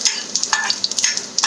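Dried chili and cumin seeds tempering in hot oil for an okra yogurt curry give a bright, crackling sizzle with several sharp pops and bursts, close and fairly loud.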